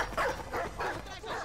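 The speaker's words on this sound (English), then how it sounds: "Dogs." Dogs barking in the video game Modern Warfare 2 Remastered, several quick barks close by, mixed with game noise and speech.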